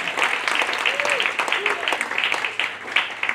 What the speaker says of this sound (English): Please give a round of applause for that.